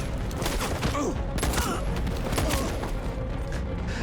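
Rapid gunfire bursts in the video game Detroit: Become Human, a series of sharp shots and thuds over a busy battle backdrop, with a faint voice present at times.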